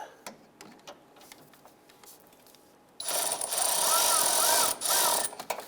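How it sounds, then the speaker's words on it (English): An 8mm socket on a ratchet works loose a component on a 1995-2001 Ford Explorer: a few faint clicks at first, then a loud, steady rasping burst that briefly dips before carrying on. "We're going to use our 8mm socket."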